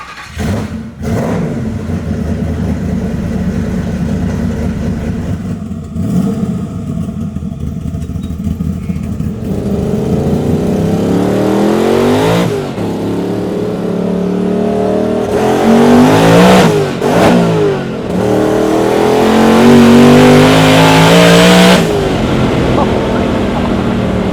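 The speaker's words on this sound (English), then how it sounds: "once it starts getting RPMs up, it's a blast" Manual-transmission Ford Maverick with a twin-turbo Coyote V8 accelerating hard, its engine revving up through the gears with rising pitch sweeps, gear-change dips and turbo whoosh, loud and close inside the cab, with a voice talking over it.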